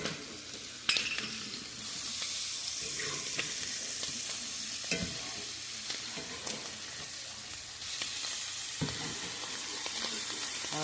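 Blackened shrimp sizzle and fry in a pan while a utensil stirs and scrapes along the bottom, with steady loud hissing and intermittent scraping clacks throughout.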